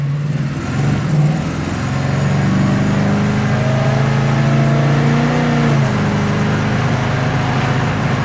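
A 1972 Plymouth Scamp, a Mopar classic, drives past with a steady mid-range engine hum that swells and holds, its tone rising slightly before easing off near the end; the engine is close and continuous, and no one talks.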